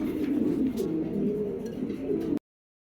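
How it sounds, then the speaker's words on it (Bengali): A cream bar Lahori pigeon cooing nearby, a low continuous throaty coo for about two seconds that stops abruptly. "এবার নিয়ে আসলাম একটা ক্রিম বার মাদি কবুতর"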